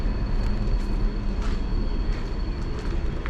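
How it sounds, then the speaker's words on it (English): Steady low rumble of a train rolling past near a hiker hostel along a trail, a continuous broad roar holding level throughout with faint higher hiss bursts. "There's a train coming through."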